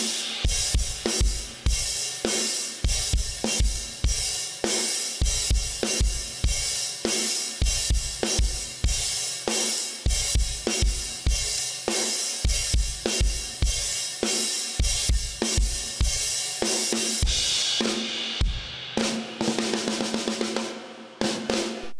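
Drum kit playing a verse rock beat with a trashy open hi-hat washing over steady kick and snare hits, loud and continuous, with no talk.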